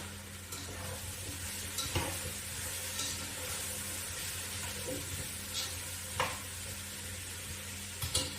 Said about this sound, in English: We're going to give it a bit of a stir.